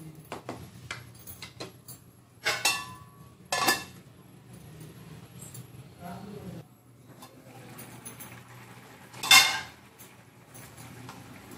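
A metal lid goes onto a pot of drumstick curry cooked in coconut milk, producing a couple of sharp clanks and one loud ringing clatter among quieter kitchen clinks and a low background hum.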